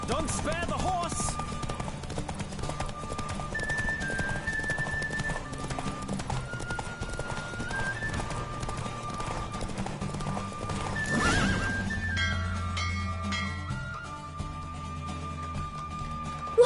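A horse gallops and neighs in The Witcher 3: Wild Hunt, with rapid steady hoofbeats throughout, a loud whinny near the start and another in the middle, layered over sustained orchestral game music.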